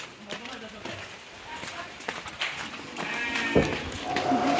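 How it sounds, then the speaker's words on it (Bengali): A frightened sheep bleats a few times among livestock while a person talks over it outdoors, with rain and farm noise in the background near a Qurbani cow. "এই যে ভেড়াটা ভয়ে আছে, ও ভয় পাচ্ছে অনেক"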